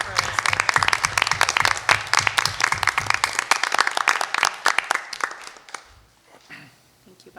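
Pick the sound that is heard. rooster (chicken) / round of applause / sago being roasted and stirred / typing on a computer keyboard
round of applause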